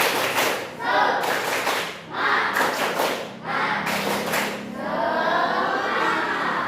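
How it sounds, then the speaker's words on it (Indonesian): A classroom of students performs rhythmic spirit clapping in short, patterned bursts separated by brief pauses, with voices calling out between the claps. "Oke, tepuk semangat dulu ya"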